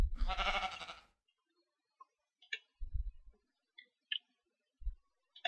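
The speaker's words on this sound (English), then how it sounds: "And the sheep still hasn't escaped." Sheep bleating in Minecraft, one drawn-out bleat standing alone, then scattered soft clicks and short low thumps from the game.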